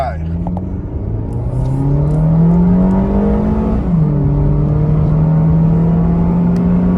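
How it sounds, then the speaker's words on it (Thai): A remapped GM2 car running on E85 with K20A injectors, stock exhaust and a panel air filter, accelerating hard with a loud steady engine drone that rises in pitch, dips at a gear change, then climbs again. "ดูอัตราเร่งกันครับ GM 2น้ำมัน E85 หัวฉีด K20A ท่อเดิม กออากาศแผ่น"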